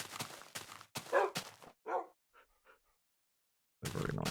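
Dogs (wolves) in the Minecraft video game give a few short yips and whimpers in quick succession, close and clear, followed by a brief pause and then another burst of sound.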